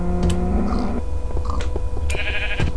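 Sheep bleating in the Minecraft video game, a few short game bleats mixed with other in-game sounds and tones, fairly loud and close with no talk.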